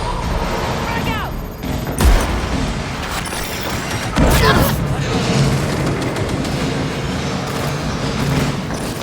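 A frag grenade blast in the video game Cyberpunk 2077 lands as a heavy thump amid a firefight, followed by another boom, with scattered gunfire and combat voices shouting around it.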